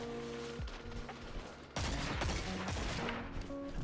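Gunfire in the shooter Destiny 2, bursts of rapid shots with a louder volley midway, set over ongoing game sounds.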